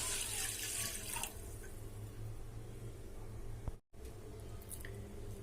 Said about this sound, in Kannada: ಈ ವಾಟಗದ್ಲಿ ಒಂದು ವಾಟಗ ನೀರು ತಗೊಂಡಿನಿ ಈಗ ನೀರು ಹಾಕೊಂಡಿ